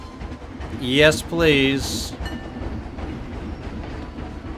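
A roller coaster train in the Planet Coaster video game rumbles steadily along its track with a rolling clatter, after a short burst of someone talking near the start.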